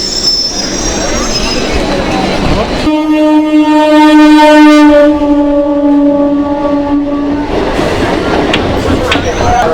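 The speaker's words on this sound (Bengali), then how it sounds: "শিয়ালদার জন্য ট্রেন চলেও এসছে।" A local train pulls into New Garia station on the Sealdah line, its wheels letting out a loud, sustained metallic squeal for several seconds amid platform rumble before the screech fades back into steady rolling noise.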